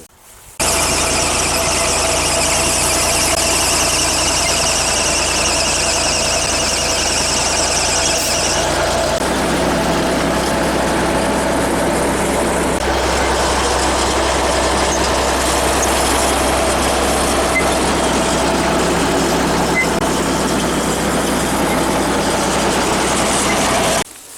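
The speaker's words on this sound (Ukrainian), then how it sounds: "Трактор пройшов от дистанцію." Loud, steady tractor engine drone with a whining high-pitched squeal over it, continuous throughout, shifting pitch slightly partway through, during demining work clearing vegetation.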